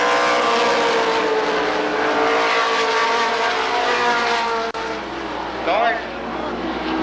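Race cars roar around a speedway oval at Columbus Motor Speedway, a dense, sustained engine drone with whining passes, while an announcer talks over it throughout.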